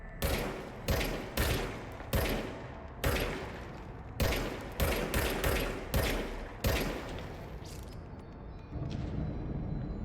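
Gunfire in the video game Control comes in repeated sharp bursts. Rapid shots are grouped into volleys with short pauses between them, loud and close, followed by a quieter tail.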